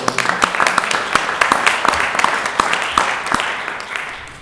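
A conference audience at an overseas entrepreneurship and innovation event claps, with distinct individual claps popping out of a moderate, steady applause that softens toward the end.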